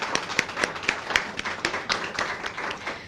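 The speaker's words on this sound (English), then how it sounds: "Everyone give them a round of applause." Scattered audience applause at a city grand opening ceremony, a modest group clapping with distinct individual claps rather than a dense roar, fairly near and moderate in volume.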